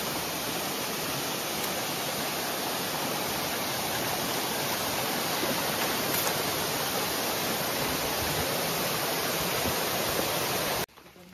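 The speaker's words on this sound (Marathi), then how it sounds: "एक धबधबा आहे आपल्या रस्त्यामध्ये आलेला आहे." A waterfall crossing a forest path near Ratangad fort gives a loud, dense and unbroken roar from close by, holding level for about eleven seconds before cutting off abruptly.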